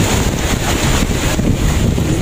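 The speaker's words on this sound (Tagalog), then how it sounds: "lakas-lakas ng alon" Rough sea waves pound the shore in a loud, constant roar, heavily buffeted by wind noise on the microphone, with no distinct breaks between surges.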